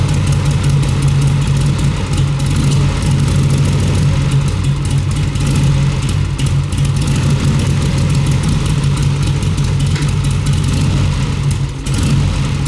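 A motorcycle engine idles steadily and loudly at close range, a constant low rumble running without pauses or revving throughout.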